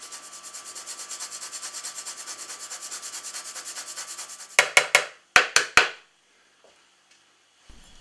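Whole nutmeg rubbed over a grater into potatoes, a fast even rasping rhythm, close and quiet, followed by a few sharp taps.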